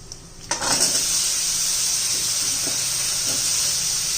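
Potato pieces drop into hot oil with turmeric and coriander-powder masala, setting off a sudden loud sizzle that holds steady and close as a continuous hiss, with a few faint utensil knocks for a potato rassa curry.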